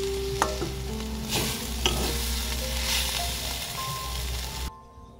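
Boiled potato stuffing is stirred and scraped in a sizzling kadai, steady close frying hiss with several metal spoon scrapes and clinks, ending abruptly near the close.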